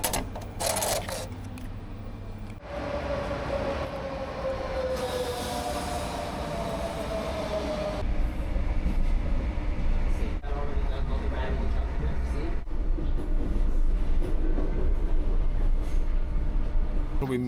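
A passenger train rolling along its rails, a steady low rumble and clatter that grows louder midway, with squealing tonal bands early on and faint voices in the background.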